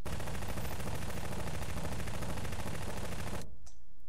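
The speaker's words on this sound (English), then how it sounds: "Submachine gun!" A submachine gun fires a sustained, rapid burst that lasts several seconds, loud and dense, then cuts off abruptly into near silence.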